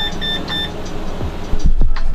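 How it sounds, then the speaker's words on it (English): A temperature sensor alarm in a van parked in -30C winter cold gives a few short, bright electronic beeps in quick succession at a steady level, followed by heavier low thumps and handling noise. "That beeping is a temperature sensor warning me that little section of the van that is below freezing"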